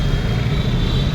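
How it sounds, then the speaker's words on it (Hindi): Cars and other vehicles outside ISKCON temple in Noida, with crowds about, make a steady low traffic rumble, close and continuous. "भीड़ वगैरह भी है, तो शोर शराबा ज़्यादा हो रहा है गाड़ी वगैरह का।"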